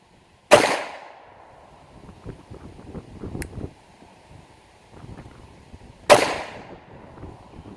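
Two sharp, loud gunshots from a PSA 5.7 Rock pistol fired outdoors at a range, spaced several seconds apart, each with a short decaying echo, with faint rustling and handling noise between shots.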